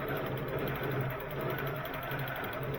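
Steady rapid stitching from a sewing machine, a continuous close mechanical whir with a fast regular pulse and no talking over it.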